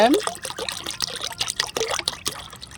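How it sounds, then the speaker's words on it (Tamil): Cool water poured from plastic bottles into a container, splashing and trickling in uneven bursts, close and moderately loud, with a short gurgling start. "இந்த மூணு பாட்டில் தண்ணியும் இதில் ஊற்றிக்குவோம்"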